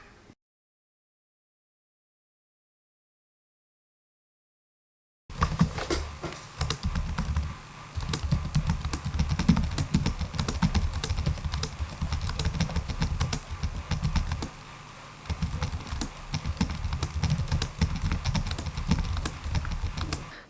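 Typing on the keyboard of a Lenovo Legion Slim 5 2023 laptop, a soft, rapid patter of key clicks that starts after several seconds of silence and continues steadily with one brief pause.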